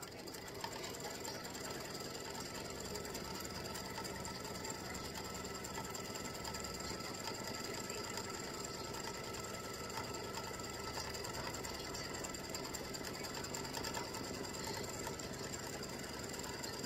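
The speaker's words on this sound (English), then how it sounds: "I'm going to stitch that tack down." An embroidery machine stitching an applique tack-down runs continuously with a fast, steady mechanical ratcheting whir, close and unbroken throughout, no voices over it.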